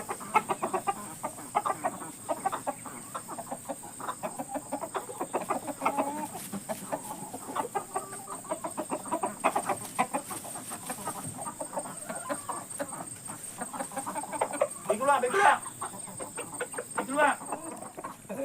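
Old chickens and a rooster clucking on a farm in a steady, busy stream of clucks, close by, with a couple of louder calls near the end and faint voices underneath.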